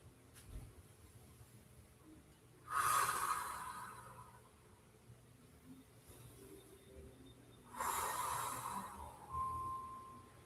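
Slow, deep breaths during a restorative yoga flow in a high lunge, two long breathy exhales several seconds apart standing out from a quiet room.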